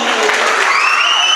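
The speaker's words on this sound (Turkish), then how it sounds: "Bir alkış daha alalım" A crowd claps in a dense, steady burst of applause at a Turkish henna night wedding celebration in a hall, with cheering voices blended into the clapping.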